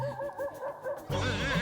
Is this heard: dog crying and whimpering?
yes